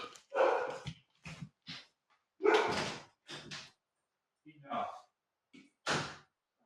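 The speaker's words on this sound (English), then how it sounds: "My dogs are barking at something." Several dogs bark in short separate bursts indoors, loud and close, with gaps of quiet between the barks.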